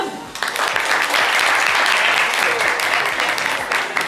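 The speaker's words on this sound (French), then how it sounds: "On va l'applaudir." An audience applauds a dancer coming onto the stage at a French live show. The clapping is loud and dense, builds up quickly and holds steady for about four seconds.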